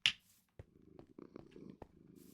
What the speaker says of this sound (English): it's a slight purr, but it is a purr